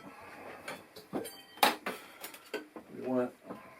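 A small cooking pan is pulled from a cupboard in an old off-grid log cabin, making a few clattering knocks and a short metallic scrape, close by, with someone speaking over it.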